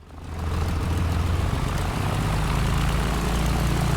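The engine of a Junkers F13 propeller plane in Microsoft Flight Simulator drones steadily and loud, a dense, chunky roar with a low throbbing hum that swells in the first half second and then holds constant throughout.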